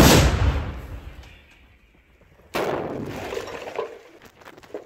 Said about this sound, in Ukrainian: Армата! Постріл!